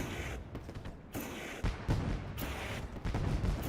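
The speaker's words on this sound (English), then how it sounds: "the fireworks are going off here at Eldora" Fireworks go off at Eldora Speedway during a truck series race, a series of irregular booms and crackling bursts at moderate distance, several distinct thumps rising above a noisy rumbling background.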